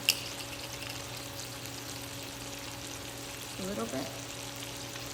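Seasoned ground meat with Fritos seasoning, pepper, onion and garlic powder frying in melting butter, giving a steady, even sizzle throughout while a voice speaks briefly over it near the end.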